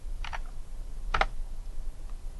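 Computer keyboard keys pressed to adjust a DIY solar charge controller, two quick pairs of soft clicks at close range over a low background hum, no voices.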